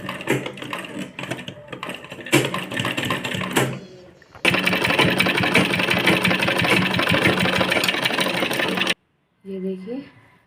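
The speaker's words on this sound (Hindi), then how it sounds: "यहाँ पे इधर से ऐसे सिलाई मार लेंगे।" A sewing machine stitches a blouse, running in short bursts and then in one long steady whirring run before stopping, with a voice heard near the end.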